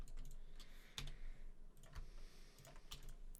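Computer keyboard keys are pressed a few times during digital illustration work, giving sparse, quiet clicks with short gaps over a soft room hiss.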